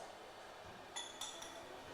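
Glass watch glasses clink together during a chemistry demonstration of acids and bases, two or three tiny, faint, bright ticks in an otherwise quiet room.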